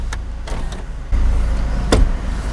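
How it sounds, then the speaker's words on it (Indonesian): Power windows on a Toyota Innova Reborn 2.4 Diesel whir briefly inside the car, a few short motor runs with soft clicks and a louder hum near the end, close and clear with no talking. "terdapat 4 kaca yang bisa terbuka secara otomatis"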